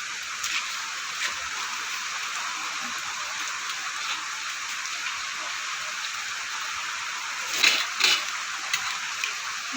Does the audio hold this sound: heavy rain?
yes